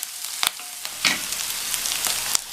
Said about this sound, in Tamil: இந்த வெங்காயத்தை லைட்டாக வதக்கி விட்டுக்கணும்.